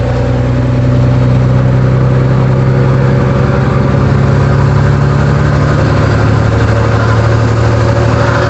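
Engine of a fully loaded semi truck heard from the hood, a loud continuous low diesel drone with steady harmonic rumble and slight pitch shifts as it pulls, no voices over it.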